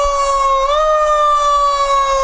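A fire engine siren sounds loud and close at a Fourth of July parade, a sustained wailing tone that dips briefly and then holds steady.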